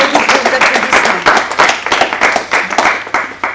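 Audience applause honoring Monsieur Jackie Wimmer at the 90th anniversary event of the Amnéville symphony orchestra: a crowd of hands claps in fairly loud, uneven rhythmic bursts for several seconds, close by and without talk over it.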